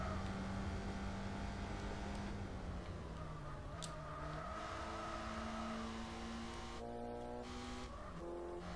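A Jaguar E-Type's engine in the video game Gran Turismo 4 holds a steady, droning note that dips and climbs through gear changes, a continuous mechanical hum with faint ticking overtones and no talk.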